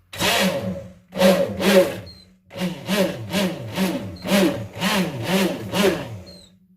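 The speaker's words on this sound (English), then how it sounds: "So you stick blend." A stick blender whirs in short pulsed bursts while mixing oil and water phases of a homemade face cream, each burst starting and stopping abruptly with brief pauses between.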